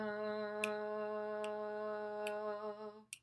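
A held sung note runs underneath while sharp finger snaps land at an even, steady pace, four in all.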